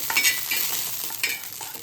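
Green chillies roast on a hot griddle with a soft, steady sizzle and occasional crackles, a few brief stirring scrapes, moderately quiet and close, with no talking.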